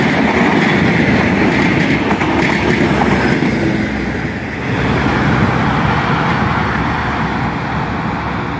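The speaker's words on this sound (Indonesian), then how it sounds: "ini kereta api bandara yang tadi simpangan ya" An airport train rumbles past steadily and loudly for several seconds on a double-track line, with a continuous rolling clatter of wheels on rails and road traffic noise mixed in.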